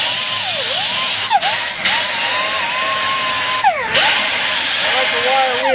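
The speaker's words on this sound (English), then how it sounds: "I like the wire wheel because it does a great job and it's quick." A power drill fitted with a wire wheel scrubs engine surfaces clean on a 1972 Dodge Dart, a loud continuous whir that dips briefly in pitch several times as the wheel is pressed into the metal, close by.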